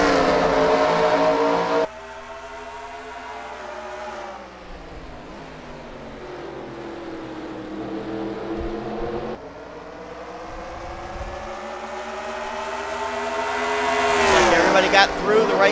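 NASCAR race cars in a racing video game at Watkins Glen roar as engines rev and climb through the gears, pitch rising and dropping with each shift, with a commentator speaking over the engine noise.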